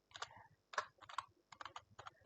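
Keystrokes on a computer keyboard, tapped out in several quick bursts with short pauses between, close and crisp with no voices over them.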